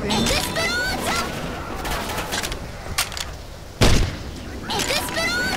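Railgun shots in the zombie shooter Left 4 Dead 2, with sharp loud blasts near 3 s and a heavy boom near 3.8 s over steady in-game background noise.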